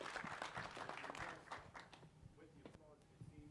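Audience applause at a conservation forum, fairly quiet and fading out after the first second or two, with scattered claps and room noise following.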